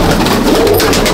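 Pigeons in a loft cooing, a low soft burbling call that runs continuously for a moment, close and loud with no speech.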